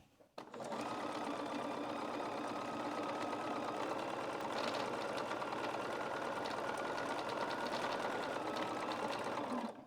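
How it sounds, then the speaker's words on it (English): A sewing machine stitches tucks into fabric, running at a fast, steady rapid clatter for nearly ten seconds without pause, close and loud. "I just sewed 15 tucks."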